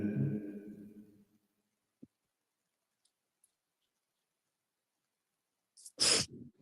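A single sharp sneeze bursts out near the end after a long quiet stretch, preceded by a brief murmur of voices and a couple of tiny clicks.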